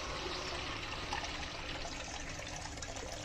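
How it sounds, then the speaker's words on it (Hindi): Hot water is poured steadily into a bowl in a home kitchen while dahi bhalle is being made. The pour is a continuous, even splashing rush that lasts throughout with no talking. "ये मैंने गर्म पानी डाला है"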